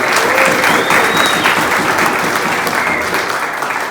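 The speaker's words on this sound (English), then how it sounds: "Give yourselves a big round of applause." Loud, sustained clapping from a large audience, steady throughout and tapering slightly toward the end.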